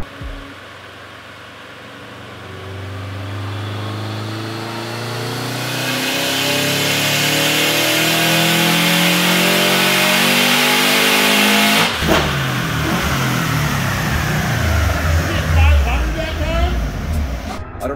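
A 2005 Subaru Legacy GT turbo engine, tuned with a Cobb Accessport and strapped down on a dyno, revs up in a long, loud, rising sweep before dropping off, with a burst of noise near the end.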